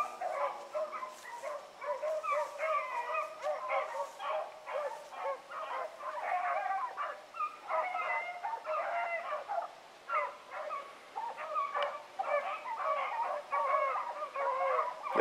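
Pack of hunting dogs barking, yipping and baying continuously through the evening chase near a lake, many overlapping voices at mid distance with a steady rhythm of howls and yelps.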